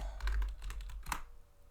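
Quick, close clicks of keys being typed on a computer keyboard entering a network switch command, a steady run of taps with one stronger keystroke near the end.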